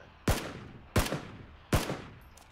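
Three evenly spaced single gunshots in the PUBG video game, each a sharp, close crack with a short echoing tail, spread roughly three quarters of a second apart.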